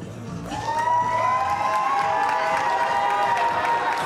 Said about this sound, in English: And the crowd really appreciating it.